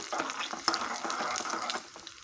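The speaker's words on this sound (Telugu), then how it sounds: "మినపప్పు, శనగపప్పు, కరివేపాకు, ఎండుమిర్చి అన్నీ వేసేసి ఇది పోపు పెట్టేస్తున్నాండి" Hot oil crackles and spits briefly as urad dal, chana dal, curry leaves and dried red chillies drop into the pan for tempering, a busy close sizzle that eases toward the end.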